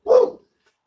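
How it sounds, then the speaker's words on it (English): A single sharp, close dog bark rings out, loud and brief, then silence. "Come on, stop barking. Stop barking."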